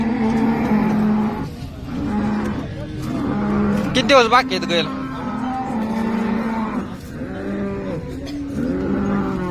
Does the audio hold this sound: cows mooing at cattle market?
yes